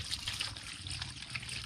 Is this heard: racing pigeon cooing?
no